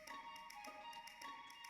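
Cats pawing and scratching at a partly open office door, a quiet run of soft repeated taps and scrapes at an uneven rhythm over a steady background hum.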